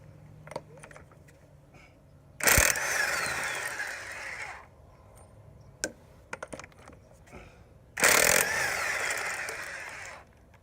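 A pneumatic impact wrench removes wheel lug nuts on a Ford F-250, with two loud buzzing bursts of about two seconds each, separated by quieter clicks and handling noises close by.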